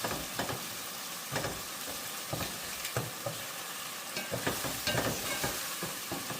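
Crab masala with salt, ginger, garlic, onion and tomato sizzling in a pan while being stirred, soft rhythmic scrapes over a faint steady fry, quiet and close with no talk.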